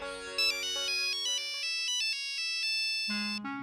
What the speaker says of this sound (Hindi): मेरे बॉस का फोन है